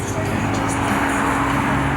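A Toyota Supra pulls away at a car show, its engine a steady low rumble mixed with crowd and traffic noise at moderate distance.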